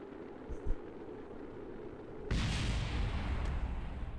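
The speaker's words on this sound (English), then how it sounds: "it's the first time it's ever exploded in the atmosphere" A rocket explodes in the atmosphere in Kerbal Space Program: a sudden loud rumbling blast that breaks over a quiet background and keeps roaring steadily to the end.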